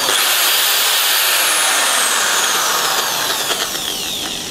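A Hukan HK-ID750 electric hammer drill runs continuously, loud and close, with a high whining motor that dips slightly in pitch midway, no talk over it.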